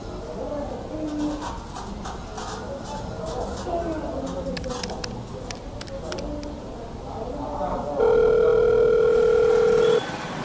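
A telephone tone sounds clearly for about two seconds near the end while a donor is being called, following bird cooing and chirps outdoors, with people talking underneath.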